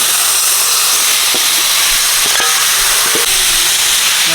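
Chola kochu curry with green chili, ginger and turmeric hits a hot pan and erupts into a loud, continuous steaming hiss with a few faint clinks beneath.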